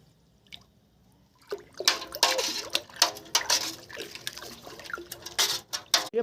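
About ten grams of white powder, half a spoonful, is stirred into five litres of water for spraying ridge gourd vines. After a quiet start come close, uneven sloshes, splashes and drips of stirring, with no voice.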